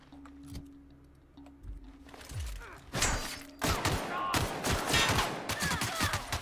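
Gunfire in The Outer Worlds: a sparse opening of isolated shots gives way, after about three seconds, to dense rapid bursts of fire layered with impacts and game effects, fairly loud and continuous to the end.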